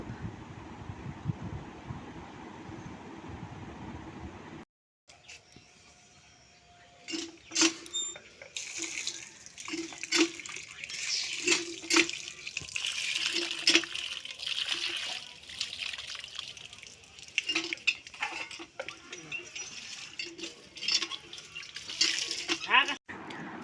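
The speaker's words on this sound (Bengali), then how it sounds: "মাংসটা নিয়ে চলে এসেছে ওই ধুয়ে নিচ্ছে" Tap water runs and trickles into a sink while meat is washed in a home kitchen, splashing and dribbling unevenly with occasional clinks, after a brief stretch of other noise at the start.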